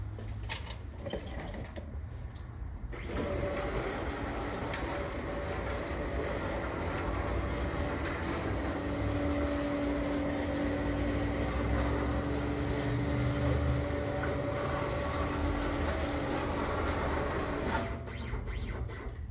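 A CNC plasma cutting table travels along its gantry as the machine is zeroed, a steady motorized whir and hum lasting about fifteen seconds, then stopping; no talking.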